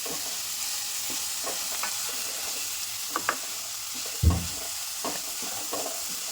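Crushed garlic, ginger, green chillies and chopped onions sautéing in a pan with little oil, a steady close sizzle broken by scattered scrapes and one louder clunk of stirring.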